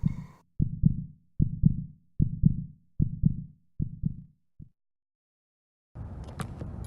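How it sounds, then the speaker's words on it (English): A low, muffled heartbeat thumps in double beats, six steady pulses, then falls silent before a burst of rustling noise. "the low heartbeat begins to get louder"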